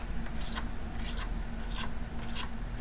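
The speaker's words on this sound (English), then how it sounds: "I'm gonna just take a razor blade and scrape along" A razor blade scrapes along the edge of a guitar body, rounding it over. Four close, sharp, rasping strokes come at a steady pace about half a second apart, set against a low constant hum.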